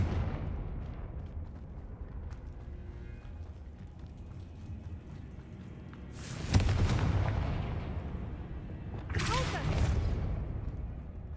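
Two booming spell blasts from Hogwarts Legacy gameplay, the first near the middle and the second a few seconds later, each a loud broad crackling burst that trails off over low game ambience.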